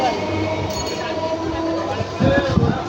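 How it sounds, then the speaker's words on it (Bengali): A train rumbles and clatters steadily as it pulls away from Dakshin Barasat station, with a low mechanical drone and faint voices in the background. "ট্রেনটা চলে যাচ্ছে দেখতে পাচ্ছি"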